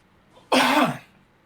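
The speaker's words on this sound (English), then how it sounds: "Oh yeah, I was coughing." One loud, harsh cough up close, a single abrupt burst that fades quickly into quiet.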